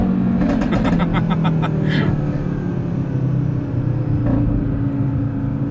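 Audi RS3 tuned to about 650 wheel horsepower revs in second gear near 4,000 RPM, a loud, steady engine roar with a rising rhythmic whine and a brief surge partway through.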